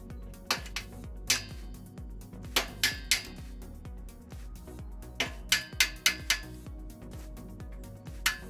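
A chisel struck with a hammer to loosen a bicycle bottom bracket lock nut, sharp metallic taps close by, single and in quick clusters, with ringing decays over a low background hum.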